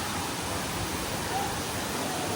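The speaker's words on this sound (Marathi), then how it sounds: "आता पोचलोय वरती धबधब्याच्या इथं." A monsoon-swollen waterfall near Dapoli in the Konkan roars as a steady, dense rush of falling water, loud and close, with no break across the short stretch.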